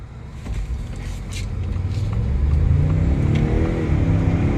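A 2024 Ford Expedition Timberline with a 10-speed transmission accelerates hard from a standstill in a 0-60 run, engine note building steadily in pitch and loudness as heard from inside the cabin, with no talk.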